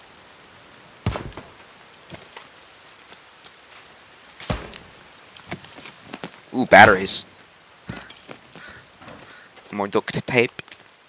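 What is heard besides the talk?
rain in the video game The Forest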